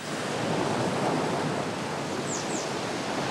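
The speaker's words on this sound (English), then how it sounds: "You come to the sea, hear the rumbling waves." Rumbling sea waves roll onto a Baltic beach, a dense, steady roar of surf that stays loud and even throughout, with a faint bird chirp briefly audible near the end.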